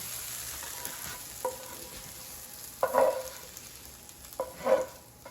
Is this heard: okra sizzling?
yes